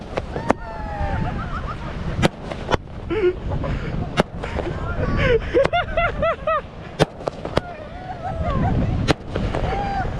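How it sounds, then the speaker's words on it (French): New Year fireworks set off on a beach at night in Sydney, sharp loud bangs at irregular intervals with whistling rockets, under excited voices and shouting nearby. "On va sur la plage pour s'envoyer des feux d'artifice."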